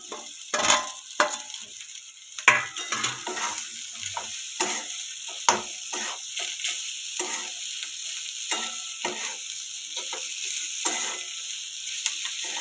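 Potatoes for a simple aloo sabji frying in hot salted oil, with a steady close sizzle broken by frequent scraping stirs of a spoon in the pan.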